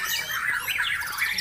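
A white-rumped shama sings at a bird contest, a dense, bright run of warbling, chattering phrases close and loud, with crowd murmur faint beneath.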